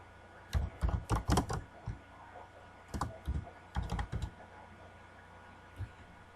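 A short search keyword is typed on a computer keyboard, giving close clicking keystrokes in a few quick bursts with pauses between them in a quiet room.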